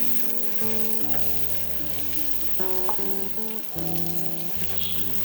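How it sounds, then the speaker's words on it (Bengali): Washed polao rice fries with ginger paste in a pan until brown, making a strong, steady close-up sizzle with light stirring, beneath background music. "বাদামি করে ভেজে নেব চালটা"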